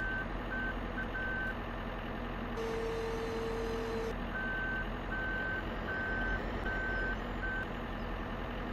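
Truck backup alarm in the Ski Region Simulator game, a snow groomer truck reversing, giving steady, evenly spaced electronic beeps over a continuous engine drone, with a brief tonal hum midway and no talk.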